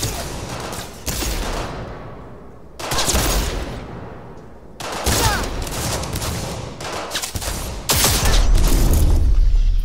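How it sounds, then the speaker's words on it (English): Flashbangs and gunfire from the video game Cyberpunk 2077: loud bursts of rapid automatic fire and booming blasts come in repeated waves, with short near-silent gaps between them. "out goes the flashbangs"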